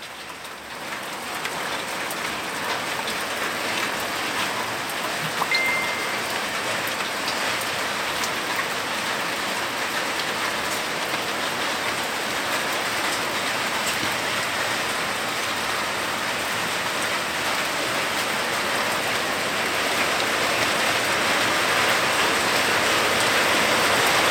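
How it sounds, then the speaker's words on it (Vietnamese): Heavy rain pours down in a steady, dense roar that holds unbroken and loud throughout, with no voices. "bây giờ trời bắt đầu mưa, tí nữa có khả năng là mưa đá đấy. Mưa to bây giờ."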